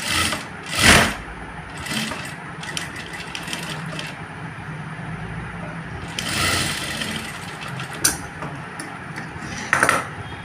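A sewing machine stitches a boat neckline, running in bursts with a steady mechanical whir broken by short pauses and a few clicks, close and loud with no talk.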